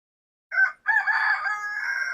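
Rooster crowing up close on a backyard chicken run: a short opening note, a brief break, then one long, loud sustained crow.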